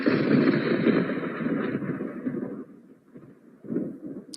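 A soundboard thunder effect plays as a deep rolling rumble, loud at first and slowly fading, then swelling briefly again near the end.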